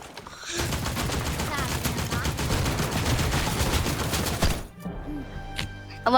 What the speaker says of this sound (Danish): Hvorfor begyndte den at skyde automatisk der med A?